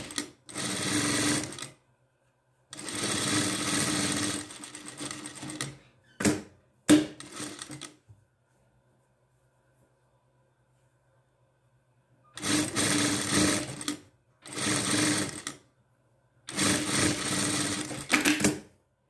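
A domestic sewing machine runs in bursts, joining a dress front and closing the neckline, each run of stitching lasting a second or two and separated by silent pauses and a few short taps.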